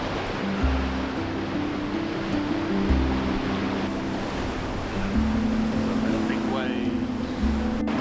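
Storm waves breaking at Robin Hood's Bay in winter, a continuous loud rush of surf and wind with a low rumbling hum underneath, the roar swelling slightly at intervals.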